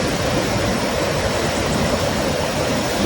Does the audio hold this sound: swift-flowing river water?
yes